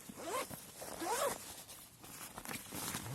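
Heavy-duty zippers on a Hill People Gear Connor v2 backpack are pulled in two clear, quick zips, followed by softer rubbing and handling sounds, close and fairly quiet.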